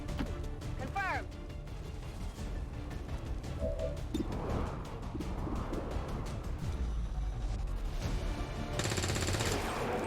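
Rapid bursts of gunfire from rookie soldiers in the strategy game XCOM 2: War of the Chosen crackle through a steady bed of game sound, with a brief whooshing effect and a dense, bright volley near the end.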